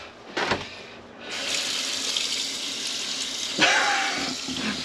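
Hot water gushes from a tap in a camper van, a steady broadband rush that starts abruptly after a few faint knocks and carries on evenly, with a brief splash surge near the end; no talking.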